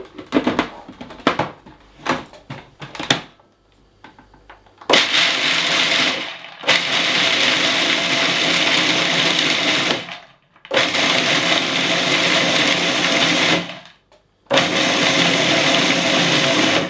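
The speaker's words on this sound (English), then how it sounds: "We are going to process the almonds until we have very tiny pieces" A food processor whirs loudly as it chops almonds into very tiny pieces, starting after a few short pulses and then running in three long bursts separated by brief pauses, close and unaccompanied by speech.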